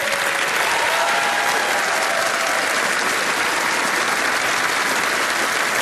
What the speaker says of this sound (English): Give these guys a round of applause as they make their way up.